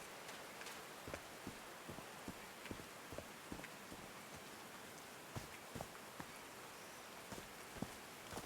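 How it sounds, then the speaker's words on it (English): Steady rain falls in the game Call of the Sea, a dense wash of patter with scattered sharper drops landing throughout, continuous and even with no talking. "These drops of rain are so refreshing."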